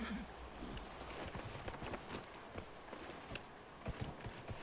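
A horse's hooves clatter in the video game Dragon Age: Inquisition while it climbs uneven ground. The hoofbeats are faint and irregular over a dense background of game ambience.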